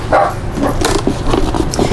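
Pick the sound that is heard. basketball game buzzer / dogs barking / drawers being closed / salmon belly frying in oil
dogs barking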